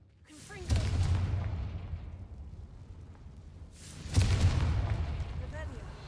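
Two heavy blasting-spell explosions from Hogwarts Legacy go off in a crumbling catacomb, each a deep booming burst with a long rumbling decay, spaced a few seconds apart.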